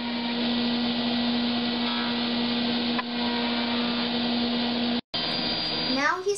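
A power planer smooths the edge of a cedar board with a loud, continuous whining drone. It cuts out briefly, then resumes as its pitch shifts and winds down.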